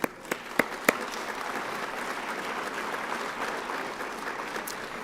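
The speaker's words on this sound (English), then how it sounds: "How about a round of applause for Autumn?" An audience at a youth citizenship awards ceremony applauds an honoree, a few loud, close claps at the start followed by a steady, full round of crowd clapping.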